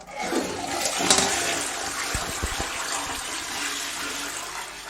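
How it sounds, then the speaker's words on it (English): A toilet flushing with rainwater fed from a storage tank, a loud rushing gush with gurgling and churning water that settles into a steady refill flow. "so if I now flush the toilet"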